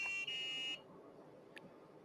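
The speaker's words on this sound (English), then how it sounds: "the Memento camera board has a built-in buzzer, so it gives you a nice little chime" A built-in buzzer on a Memento camera board, triggered by an arcade doorbell button, sounds a short steady electronic tone for under a second. A faint click follows. It is quiet and close, with no talking.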